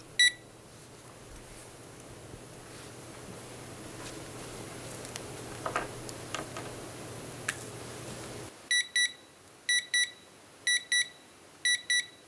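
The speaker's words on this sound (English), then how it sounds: "would you mind setting the timer for 10 minutes, Kelly?" A meeting timer set for ten minutes goes off in a quiet room, giving five short bursts of sharp, high beeps in a steady repeating rhythm after a stretch of soft room hum.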